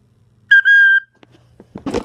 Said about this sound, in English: This is like a whistle or something.